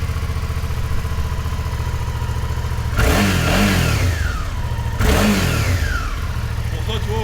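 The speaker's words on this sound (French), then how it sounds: "ça fait un bruit vraiment d'échappement d'origine" A Suzuki V-Strom 650 XT motorcycle with its stock exhaust revs twice over a steady idle. Each throttle blip rises sharply and then winds back down. The bike is recorded close up, and no one speaks.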